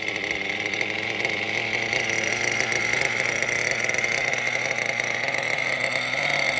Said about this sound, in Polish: A tutaj macie spalinę. Chłopaki regulują spalinę.